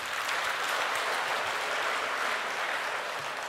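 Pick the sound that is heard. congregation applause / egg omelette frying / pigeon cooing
congregation applause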